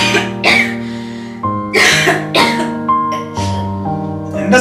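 A woman coughs in repeated harsh bouts, about five coughs spaced across a few seconds, loud and close, with steady tonal music playing underneath.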